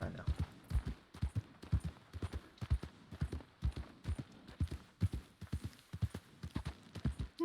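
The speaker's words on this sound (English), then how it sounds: "The horse is still there. Been there since we left." Horse hooves clip-clop in a steady trotting rhythm through a roleplay video game, fairly close and regular, with people talking over the hoofbeats.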